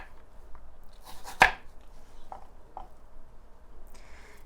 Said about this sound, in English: I'm just going to chop them up pretty much the same size as the carrots.